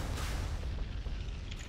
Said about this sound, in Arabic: المدفع مالتها مميز جدا